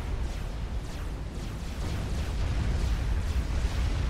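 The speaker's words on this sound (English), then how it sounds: "You got battleship fire coming in from the ocean that is overwhelming his shields" Battleship artillery fire and explosions in Supreme Commander: Forged Alliance, a heavy, continuous rumble of overlapping booms and bursts, loud and low, building slightly toward the end, with no talking.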